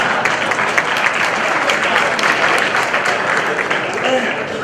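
Audience at a Jain sermon breaking into applause, a dense, steady wash of clapping from many hands filling the whole stretch at close, even loudness.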